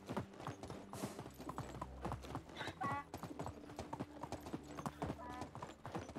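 Donkey hooves clip-clop in a steady rhythm while riding in the Medieval Dynasty video game, the clopping close and continuous, with faint other game sounds in the background.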